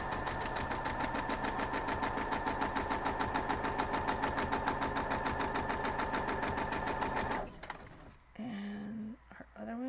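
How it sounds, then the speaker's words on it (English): A sewing machine runs steadily and loudly for about seven seconds, stitching straight seams on half square triangles for a paradox quilt block, then stops abruptly and leaves quiet handling noises. "We're going to go over and just sew those straight down."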